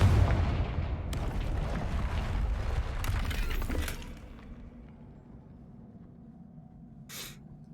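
The Confringo fire spell in the video game Hogwarts Legacy erupts in a loud, rumbling blast with crackling spray that rolls on for a few seconds, then fades to a low hum broken by one faint hiss.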